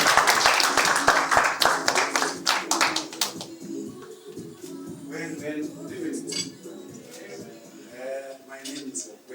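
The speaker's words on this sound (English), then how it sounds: "All right, a round of applause now." Audience applause at a book launch, a burst of brisk clapping that fades after a few seconds into room murmur and scattered clinks, with people talking underneath.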